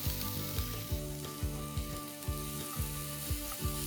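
Half a finely chopped capsicum sizzles in a teaspoon of hot oil, a close, steady frying hiss with regular stirring scrapes every half second or so, no talking.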